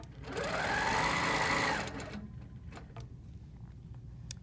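A sewing machine runs in one steady burst of stitching quilt lines, loud and close for about a second and a half before stopping, followed by quiet handling noises and small clicks.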